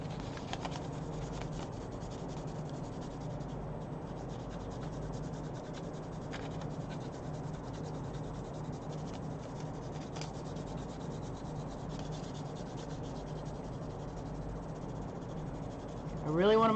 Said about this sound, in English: I'm going to take a number 6B and just put graphite all over this.